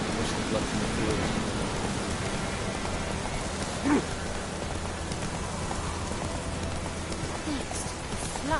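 Steady rain in The Witcher 3 video game, a dense continuous hiss with a low rumble underneath and a brief louder swell partway through, heard alone without talk.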